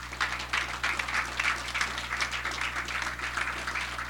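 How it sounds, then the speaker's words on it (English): Hearty applause from a gathered audience at the opening of a steelpan exhibition at the Trinidad and Tobago Carnival Museum, dense, steady clapping sustained throughout, moderately near, with no talking over it. "I ask you all to join me in acknowledging once again those steelpan pioneers and legends in our midst with a hearty round of applause."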